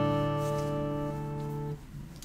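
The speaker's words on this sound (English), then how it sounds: "He incorporates this slap harmonic," A slap harmonic is struck on a guitar fretboard, ringing as a bright, chime-like chord of sustained overtones that fades after about two seconds, played alone and fairly quietly.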